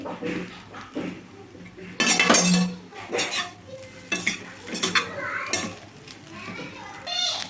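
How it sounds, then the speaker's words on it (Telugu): A spatula stirs and scrapes egg fried rice with garam masala around a metal pan, with clattering metal knocks and scraping. Children's voices chatter and play in the background. "ఒకసారి బాగా కలుపుకోవాలి"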